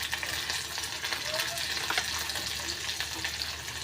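Onion and curry leaves frying in a pan, giving a steady bright sizzle with occasional stirring scrapes throughout, close and fairly loud with no talk over it.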